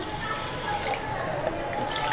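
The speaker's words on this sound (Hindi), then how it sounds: "एक पैन में हम शक्कर डालेंगे और पानी डालकर उसकी चाशनी बनाएंगे" Water pours steadily onto sugar in a metal pan to make syrup, a continuous splashing trickle close by with no talking.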